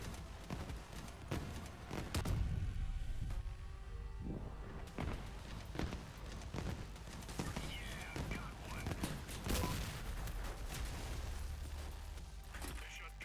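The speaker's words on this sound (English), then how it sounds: "It's constantly launching missiles at me." Enemy missile launches in the vehicle combat game Crossout, a steady run of sharp booms and blasts over rumbling engine noise, with some close, hard hits and a low continuous roar throughout.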